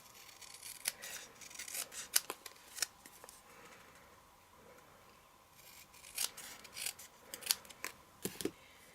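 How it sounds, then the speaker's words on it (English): Scissors trim excess cardstock in quiet, close snips that come in scattered bursts with short pauses between cuts. "I'm just going to trim off the excess cardstock"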